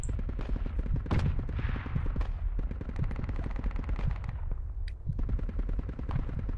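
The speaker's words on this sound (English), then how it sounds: "I see a quad gun." Rapid gunfire from a quad gun in a jungle warfare video game, a dense continuous barrage of shots with overlapping bursts, loud and sustained throughout with no talk.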